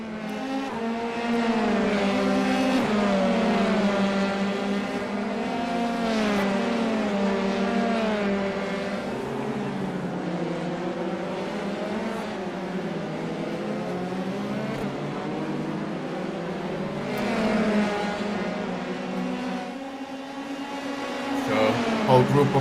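Formula 3 race cars at Suzuka in an online racing video game, a pack of engines whining and shifting pitch as they rev and pass, with speech over them.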